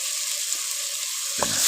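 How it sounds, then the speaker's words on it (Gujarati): Spice masala for sev tameta shaak fries in a pan with a steady, close hissing sizzle, broken near the end by a single soft knock. "હવે મસાલાને પકવીએ."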